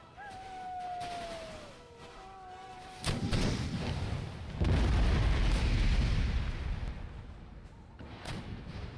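Artillery cannons in Empire Total War's Darthmod battle, a few deep booms and a long rumbling barrage after a faint whistling tone, with crackling shots scattered around.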